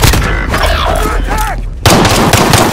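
Call of Duty: Modern Warfare gunfire cracks out in loud, heavy bursts, then a dense volley of shots after a brief lull near the middle.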